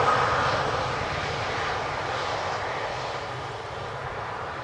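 A KLM airliner arriving at Amsterdam Schiphol Airport fills the air with a steady, loud jet engine roar that eases slightly as it passes, heard alone without talk.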